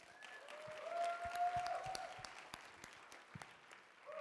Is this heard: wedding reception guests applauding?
yes